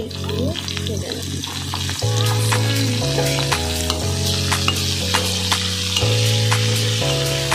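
Turmeric fries in hot oil with a constant crackling sizzle and occasional stirring, while a melodic music track plays in the background.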